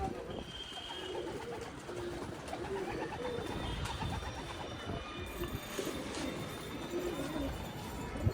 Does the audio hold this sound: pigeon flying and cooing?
yes